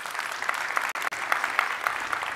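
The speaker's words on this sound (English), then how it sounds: "Can we give them a big round of applause," Conference keynote audience applauding the program committee, an even, sustained round of many hands clapping at moderate distance with no talk over it.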